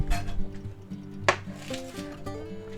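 A knife chops bok choy on a cutting board with a few clacking strikes, one sharp hit standing out, while light clinks of kitchenware ring briefly.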